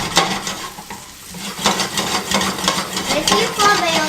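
Garlic and shallots sizzle and fry in a hot pan for saltimbocca, a steady crackle broken by stirring scrapes and the clink of a utensil against the pan, close and fairly loud.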